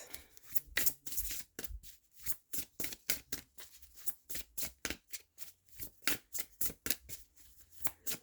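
Playing cards are shuffled and drawn for a tarot-style reading, heard as rapid, close riffling bursts and crisp slaps in an irregular rhythm, separated by short quiet gaps, with no talking.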